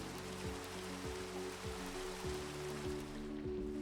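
Minecraft rain falls in a steady continuous hiss, even and unbroken, with a low repeating tonal drone layered beneath it throughout.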